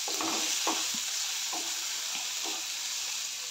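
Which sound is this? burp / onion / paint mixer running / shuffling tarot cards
onion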